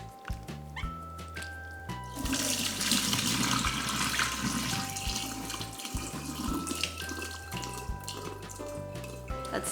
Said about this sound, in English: let's drain the udon noodles.